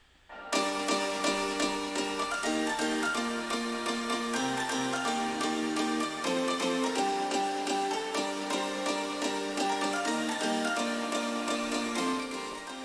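Bright synth keys in a dance track play rhythmic chords over a steady dance beat, the bass notes stepping through a repeating pattern before fading at the end.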